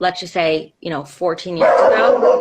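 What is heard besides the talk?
dog barking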